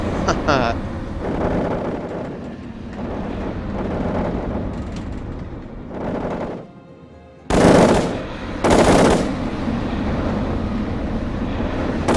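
Sustained automatic machine-gun fire in a video game, dense rapid bursts with a short lull and then renewed loud volleys, alongside a speaking voice.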